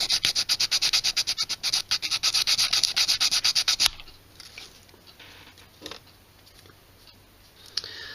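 Sandpaper roughing up the end of a wooden popsicle stick to prep it for epoxy: about four seconds of quick, rhythmic rasping strokes, close and loud, then it stops, leaving faint handling noises and a few small taps.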